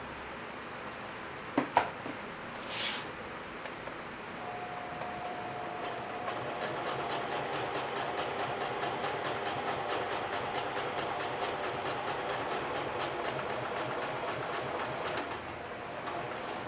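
A sewing machine top-stitching along the edge of a pressed denim watch pocket shield, a long steady mechanical whir with a fast rhythmic needle tick, close and continuous after a few handling knocks, no talk.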